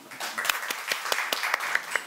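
At an international academic forum on Asian borderland studies, the audience applauds after the university president's welcome speech. Light, sparse clapping rises to a moderate level, with distinct individual claps standing out at a steady pace.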